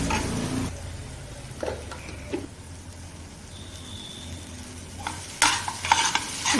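Cooked bitter gourd curry sautéed in a pan, a low gentle sizzle under spoon scrapes and stirring knocks against the metal, with a few louder scrapes near the end.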